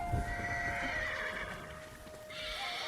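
A horse whinnies in the Ghost of Tsushima video game. The neigh is drawn out and fairly loud, with hoof clip-clop beneath it against a steady game background.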